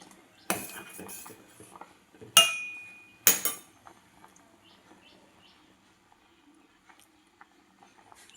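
A metal spoon stirs pasi paruppu payasam, a sweet moong dal pudding, in a cooking pot, giving three sharp clinks against the pot in the first few seconds before the rest goes quiet.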